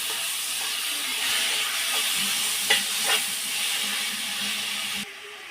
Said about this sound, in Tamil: வெங்காயம் தக்காளி வதங்குறதுக்கு உப்பு சேர்த்து வதக்கி விட்டுக்கிறேன்